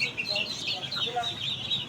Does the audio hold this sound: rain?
no